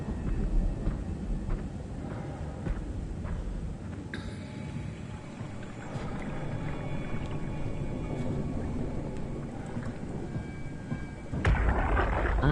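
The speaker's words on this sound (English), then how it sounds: "Why does it sound like there's lightning down here?" Deep, rolling thunder-like rumble in the video game SOMA, a steady loud low roar filling the space with a sharper burst near the end.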